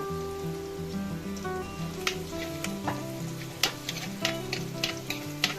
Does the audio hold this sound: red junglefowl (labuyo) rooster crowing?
no